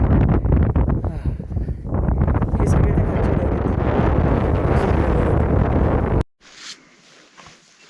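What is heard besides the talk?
strong mountain wind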